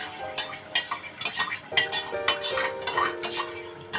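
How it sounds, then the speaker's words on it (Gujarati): Yogurt stirred into fish curry gravy over low heat, with repeated scraping and clinking of a spoon against the pot and a soft sizzle underneath, close and steady. "ધીમા તાપે આપણે હલાવીશું ઘડીક"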